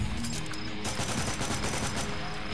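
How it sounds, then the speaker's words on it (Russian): Rapid bursts of video game gunfire as zombies are shot down, a dense fusillade of shots running continuously and loudly throughout. "Смотрите, иду просто расстреливаю чуваков зомбешка."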